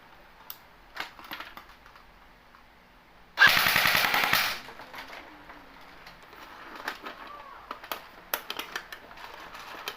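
An airsoft Thompson gun fires on full auto in one loud, rapid burst lasting about a second, with quieter clicks and handling noises before and after.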